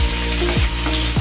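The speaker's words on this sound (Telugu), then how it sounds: "ఉల్లిగడ్డలు మంచిగా ఫ్రై చేసుకోవాలా." Chopped onion and green chillies sizzle steadily in hot oil with popped urad dal tempering, a close continuous frying hiss with faint stirring scrapes and no voices.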